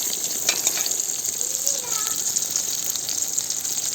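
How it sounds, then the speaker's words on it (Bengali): Eggplant fritters frying in hot oil make a steady, moderate sizzle that holds evenly throughout, with a brief faint tonal sound partway through. "তাই বেগুনে বড়া ভাজছি"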